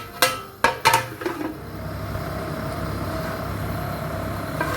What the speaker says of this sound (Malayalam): രണ്ടാമതും തിളയ്ക്കാൻ തുടങ്ങി.